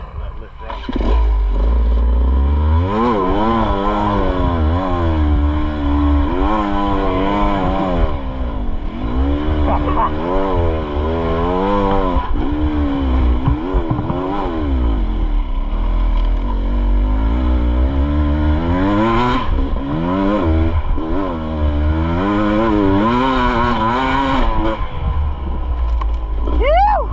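A Beta 300 enduro motorcycle labours up a steep bush hill, its two-stroke engine revving loud and close in rising and falling surges throughout with no letup.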